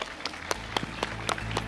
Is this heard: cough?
no